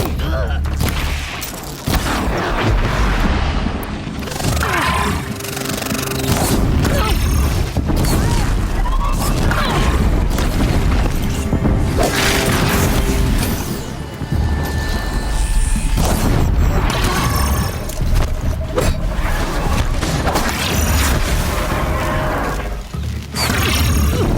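Gunfire and explosions in the video game Horizon Zero Dawn: loud booming blasts, rattling shots and mechanical clanks layered densely over sustained battle noise for the full stretch.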